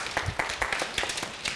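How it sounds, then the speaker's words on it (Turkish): A classroom of children claps briefly for a classmate at a 23 April celebration, with quick uneven claps bunched close together over a little over a second. "Alkışlayalım arkadaşımızı."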